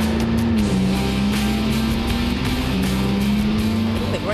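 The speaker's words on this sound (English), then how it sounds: "You hear the turbos kicking in." A McLaren road car engine drones steadily and loudly from start to finish, a sustained low tone with a slight pitch rise as the turbos come in, heard without any talk.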